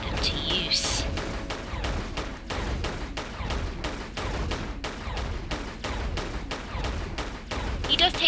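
Pistols firing in a Tomb Raider custom level: a long run of sharp, evenly spaced shots cracking out several times a second over a low game rumble.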